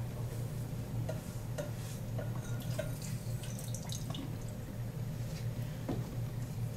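Water running and splashing steadily as sand is rinsed out into a pre-weighed beaker in a soil lab, with faint drips and small clinks throughout and no talking.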